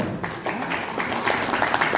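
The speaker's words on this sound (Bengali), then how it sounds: "হাততালি দাও" A group of people on a company team tour in Digha claps together, a dense run of overlapping handclaps close by that grows slightly louder toward the end.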